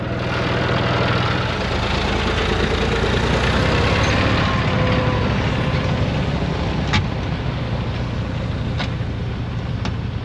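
A tractor fitted with tyre chains and a rear-mounted snow blower runs at a steady, droning idle, its low rumble continuous and close for the whole stretch with no voices.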